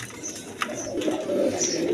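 A pair of pigeons, a sky-blue Rajgolla hen of big size and a male, coo in soft repeated low calls that run through the whole stretch, with no talk over them.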